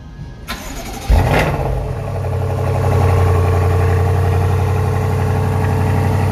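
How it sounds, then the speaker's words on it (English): A 2022 BMW M850i Gran Coupe V8 engine cranks briefly on a remote cold start, then fires up with a loud surge and settles into a deep, steady idle rumble. "that is what a cold start sounds like"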